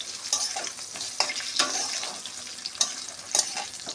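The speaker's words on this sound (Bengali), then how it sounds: "আলুটাকে আমি লাল করে ভেজে নেবো" Potatoes fry in oil in a pan, giving a close, steady sizzle with several sharp spattering crackles and stirring knocks spread across the clip.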